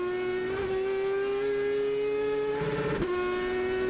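A race car at the Daytona 24 Hours on track, its engine a steady sustained drone with a slight pitch rise, loud and continuous, with a brief rougher burst near the end.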